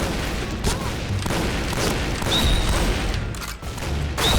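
Dense, continuous gunfire in a shooter video game, with rapid overlapping shots and booms forming a loud, steady barrage throughout.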